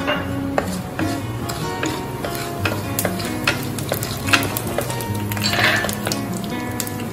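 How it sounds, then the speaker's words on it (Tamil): Fenugreek and fennel seeds sizzle in hot sesame oil in a pan, a steady close crackle broken by repeated sharp stirring clicks and scrapes, with no speech. "நல்லெண்ணெய் தாளிக்கிறதுக்காக நான் வெந்தயமும் சோம்பும் போட"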